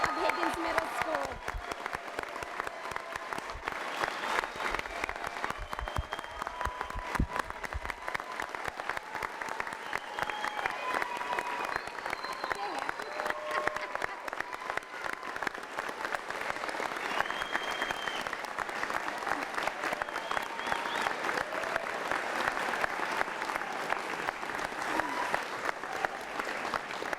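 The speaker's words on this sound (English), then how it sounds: "Would everyone please join me in congratulating and applauding the 2019 graduates of Higgins Middle School." Sustained applause from a ceremony audience honoring the 2019 graduates of Higgins Middle School, a steady dense clapping wash lasting throughout with no break.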